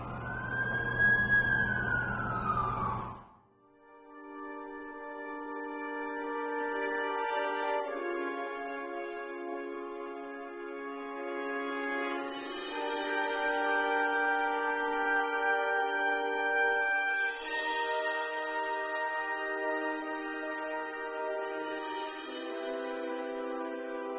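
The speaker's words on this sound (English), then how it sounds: "That's the ambulance I called." An ambulance siren wails steadily and loudly for over twenty seconds, a harmonic tone that shifts pitch in repeating cycles after a brief swooping whoop at the start.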